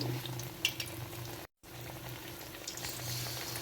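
Fish sizzling in hot oil in a kadhai wok, a steady close crackle with faint bubbling and a few sharper pops, briefly cut by a moment of silence midway.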